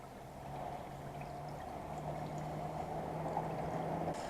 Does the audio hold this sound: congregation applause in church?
no